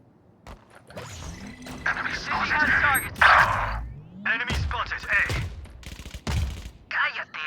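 Bursts of rapid gunfire and sharp impacts in the video game Valorant crackle in quick succession, with voices talking in Tagalog over the shooting throughout.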